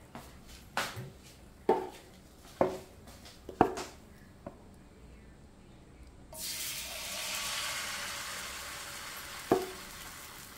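Dosa batter, made from freshly ground rice, poured onto a hot pan: several sharp knocks and clinks first, then a sudden rising hiss of sizzling that settles into a steady fry with one more clink near the end.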